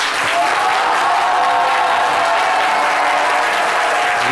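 A television studio audience applauds on a talk-show set, a dense, loud, sustained clapping that holds steady throughout.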